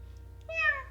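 A single short rising-and-falling meow from a cat in a video game, clear and close over a low steady background hum.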